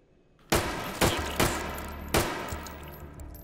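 Bushmaster civilian AR rifle fired in a video game: four loud, sharp gunshots spaced irregularly over a few seconds, each with a short ringing tail, no talk.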